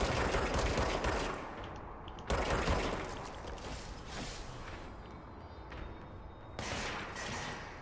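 Zombie-like enemies open fire in the action game Control, dense bursts of loud gunfire crackling in two long sustained volleys with a short break near the middle, close and harsh, no talk over it.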